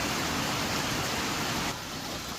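Rain pours steadily onto a tin roof, a dense, even hiss with no breaks that eases slightly in level near the end.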